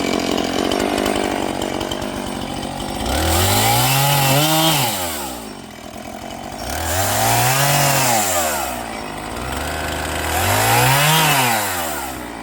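A chainsaw cutting firewood on a hot summer day idles and then revs up three times in long, loud pulses, each rising and falling, close by.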